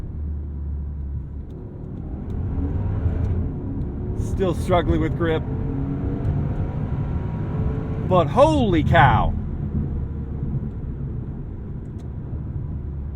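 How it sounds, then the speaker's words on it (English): A Maserati Ghibli Trofeo's crossplane V8 roars and climbs in pitch under excited talking, rising to a loud surge near the end of the acceleration. "And the sound of that V8, it's exotic, even for a crossplane."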